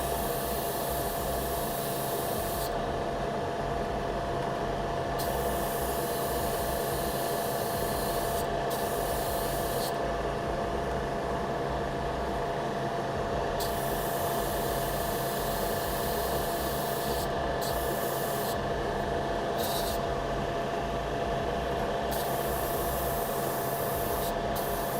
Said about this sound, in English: I gotta clean this airbrush out